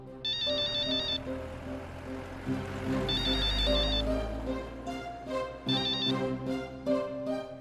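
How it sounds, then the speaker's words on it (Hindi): A telephone rings during a call, with a repeating electronic ringtone sounding in bursts over a low hum and some background music, fairly close and clear. "प्लीज फोन उठा लो."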